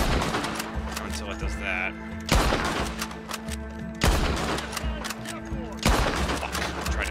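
Bolt-action rifle shots ring out in a Red Dead Redemption 2 shootout in Saint Denis: four loud, sharp cracks spaced a second or more apart over steady game ambience, with someone talking in between.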